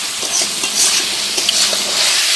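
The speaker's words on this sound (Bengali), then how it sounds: "এখন হচ্ছে মটন রান্না" Mutton with large potato pieces cooking in a pot over a wood-fired clay stove in a village kitchen, a loud, close, continuous hissing sizzle with soft stirring scrapes, no talk.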